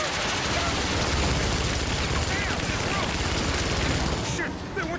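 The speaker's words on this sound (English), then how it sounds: "They weren't supposed to shoot at us!" Dense, continuous gunfire from local militia in the video game Rise of the Tomb Raider, a loud sustained barrage of rapid shots with no clear gaps, tapering slightly near the end.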